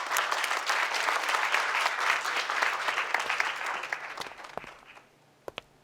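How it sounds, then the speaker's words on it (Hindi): An audience at a staged foundation event claps loudly to welcome a couple onto the stage, a dense burst of applause that thins into scattered claps and fades out, ending with a few isolated taps. "अपनी जोरदार तालियों में इस्तकबाल करें फंडिंग प्रेसिडेंट मिसेस सोलिहा कुर्तुगलू और मिस्टर सिरकांत कुर्तुगलू का कि वो दोनों स्टेज पर तशरीफ लाएं।"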